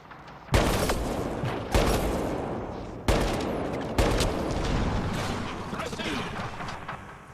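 Gunfire in the video game Mass Effect Andromeda: four heavy, booming bursts a second or so apart, each trailing into a dense, roaring wash of shooting and explosions.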